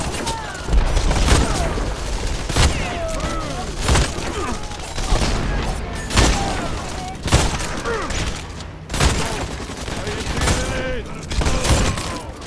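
Heavy gunfire from the video game The Expendables 2: sustained automatic bursts and booming blasts fill the scene continuously, loud and dense, with explosive peaks recurring every second or two.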